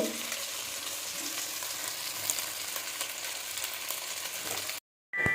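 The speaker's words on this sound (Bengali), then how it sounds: "চালটাকে আমি খুব ভালোভাবে ভেজে নেব" Five hundred grams of soaked basmati rice fries in oil for chicken pulao, giving a steady close sizzle with stirring scrapes throughout, briefly cut off just before the end.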